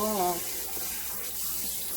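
Running tap water pours steadily over cleaned squid in a kitchen sink, a close continuous splashing rush after a brief voice at the very start.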